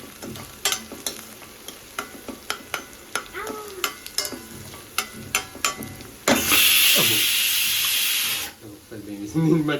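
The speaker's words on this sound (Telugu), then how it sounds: "ఆనియన్స్ కట్ చేసి పచ్చిమిర్చి కొన్ని కట్ చేసి ఆయిల్ వేసేసి ఫ్రై" Chopped onions and green chilies fry in oil in a home kitchen as a spoon scrapes and taps the pan in a steady rhythm, and a loud burst of sizzling hiss swells midway before settling back down.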